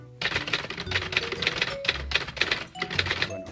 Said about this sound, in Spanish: el efecto de máquina de escribir, o sea, que se escucha como que suenan las teclas